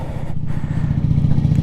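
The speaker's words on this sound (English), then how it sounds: "I'm gonna go ahead and go for a little spin with the Honda Grom" A red Honda Grom motorcycle's small engine runs steadily nearby, a loud, even idle burble with no talking.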